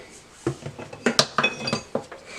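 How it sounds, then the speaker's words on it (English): Lid set onto a pressure cooker and locked in place, heard as a quick series of close metallic clinks and clanks with short gaps between, no voices. "Take this lid, lock it on there, and we're gonna plug this bad boy up"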